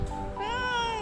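A single cat meow, close and clear, rising into a drawn-out tonal cry lasting about a second.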